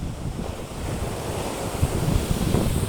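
Ocean waves wash and surge steadily up close, a broad rushing roar mixed with buffeting wind noise on the microphone, with no voices.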